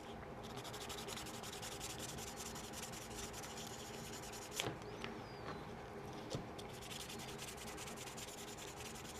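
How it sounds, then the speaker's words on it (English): Steady back-and-forth sanding of excess plastic cement off a Gunpla plastic model kit part, a continuous close rasping rub with a couple of faint clicks, no talking. "after you put on the cement, you just sand off excess"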